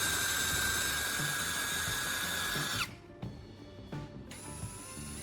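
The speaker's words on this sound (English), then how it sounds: "Using my drill, I'm making sure to bore straight through the marked points on the small wooden block." A power drill whines steadily, then cuts out and gives a few short bursts as it bores through a small wooden block, close and loud.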